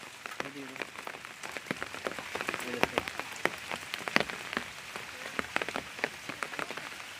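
Rain patters down outdoors beside a village fish pond, with irregular nearby drops striking surfaces over a soft steady hiss, and brief murmurs of voices in the background.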